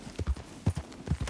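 Horse hooves clip-clopping in Red Dead Redemption 2, a brisk, evenly paced run of paired hoof thuds, close and clear with no talk over them.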